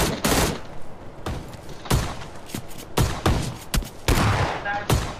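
Shotgun fire in the mobile battle royale PUBG Mobile booms out as several heavy, spaced blasts, each loud and close with a quick tail, repeating irregularly over a few seconds.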